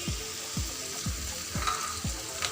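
Green chillies sizzle in hot oil with ginger garlic paste for an instant green chilli pickle, a steady frying hiss punctuated by regular scraping strokes of a stirring spoon about twice a second.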